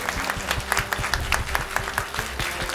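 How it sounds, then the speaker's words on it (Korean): Applause from a church congregation at a teachers' long-service award ceremony on Teacher's Sunday, a steady wash of many hands clapping throughout, fairly even and sustained with no speech over it. "성도 일동 박수 부탁드립니다."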